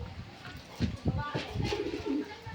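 Loft pigeons coo softly nearby in a few low, throaty rolls, with a voice talking faintly in the background.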